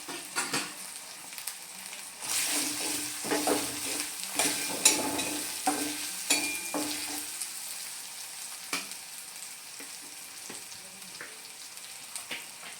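Potato and egg curry masala sizzling in a pan as it is fried and stirred with turmeric and chili powder, with repeated scraping stirs and crackles over a steady hiss, close and moderately loud, with no talk.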